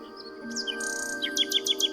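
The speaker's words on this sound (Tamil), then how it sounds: "நிஜமான குயில் அதுக்கு என்ன தோண்டுச்சோ அதுதான் பாடிச்சு" A bird sings in a told story about a nightingale, with bright chirps and then a quick run of repeated tweeting notes over a soft sustained musical background, fairly close and clear, with no voices.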